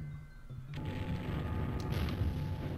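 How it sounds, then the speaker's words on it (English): Cannon fire from the Star Fox Adventures video game: a sudden low boom strikes near the start and a dense, rumbling blast sustains loudly to the end, with no talk over it. "This is like the worst cannon ever."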